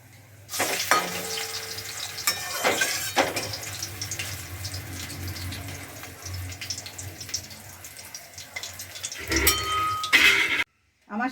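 Stuffed bottle gourd leaf fritters fry in a pan of oil, a loud continuous sizzle with occasional stirring clatters and brief bursts, ending in a sudden cut to near silence.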